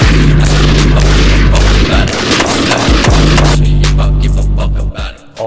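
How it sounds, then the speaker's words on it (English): Loud, heavy gunshots with booming reports, close to the listener, interrupting a steady low rumble and falling into a short pause before the rumble and more shots return. "I'll throw up a video of me shooting the other day."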